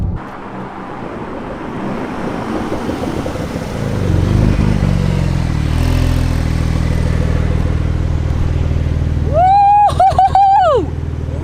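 A Porsche 911 Turbo S engine roars steadily under a launch-control start with wind rushing past, then a high tonal whine rises and falls near the end as the car surges forward.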